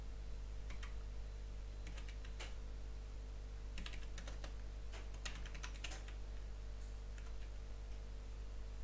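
Someone types an IMEI number on a computer keyboard: scattered, uneven keystrokes in short bursts over a steady electrical hum, with no voices.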